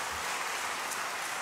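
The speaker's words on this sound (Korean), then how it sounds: "우리 위로와 격려의 박수 한번 해주십시오." A church congregation at a Sunday service gives a burst of applause of comfort and encouragement, a dense, steady wash of many hands clapping at once.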